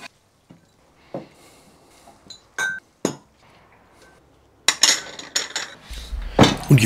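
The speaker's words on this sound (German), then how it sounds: "Nach ein paar Minuten im kochenden Wasser sind die Gläser sterilisiert." Glass jars clinking together in a kitchen after being sterilized in boiling water, several sharp, close clinks and knocks spaced apart, then a louder burst of clattering glass near the end.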